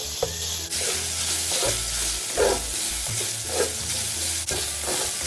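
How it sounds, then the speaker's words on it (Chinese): Pork slices sizzle in a pan of fried shallot oil over medium heat, with steady frying hiss and repeated scraping of a spatula stirring the meat, close and continuous, with no talking. "再勺入2大匙炸葱油，接着将肉片倒入中火煸一煸香"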